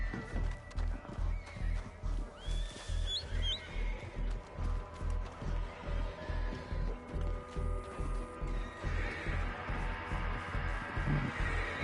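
A horse whinnies and snorts over a steady, rhythmic clip-clop of hooves, with a soft ambient background throughout, in the video game Red Dead Redemption 2 Online.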